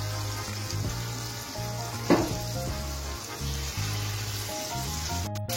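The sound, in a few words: gokul pithe frying in oil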